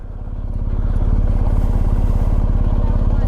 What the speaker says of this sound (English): I feel guilty riding down here with a bike, but it's a quiet engine